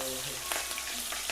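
Cumin and chili frying in palm oil for a Mughlai egg paratha, a continuous close sizzle with a few sharper pops and stirring scrapes, no talk.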